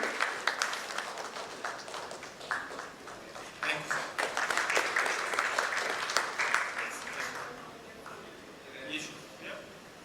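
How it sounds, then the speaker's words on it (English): Audience at a leadership summit panel discussion applauds a panelist, a steady wash of many hands clapping that swells through the middle and tapers off toward the end. "can we have a huge round of applause"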